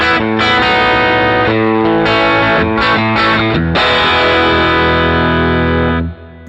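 An electric guitar through an Axe-FX III patch modeled on a 1964 Fender Vibe Reverb amp with a 1x15 cab plays sustained chords through a warm, pulsing vibrato and reverb, loud and ringing, before fading out.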